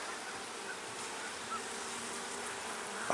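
A swarm colony of honey bees in a hive gives off a dense, continuous buzzing drone, steady and fairly quiet, with no voices.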